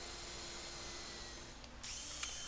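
A steady, close whine of a power drill running continuously through pilot holes in wooden beehive panels, with a brief dip and restart partway through, no voices.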